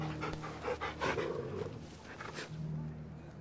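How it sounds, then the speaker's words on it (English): Torgal, the dog companion in Final Fantasy XVI, pants while being petted, quick rhythmic breaths close up, with a low growling rumble underneath and no talk over it. "Such a cute puppy."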